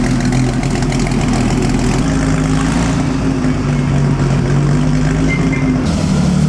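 A vintage Ferrari race car at the 2009 Mille Miglia idles steadily nearby, a deep, even engine hum holding a constant pitch, with a slight shift in tone near the end and no voices.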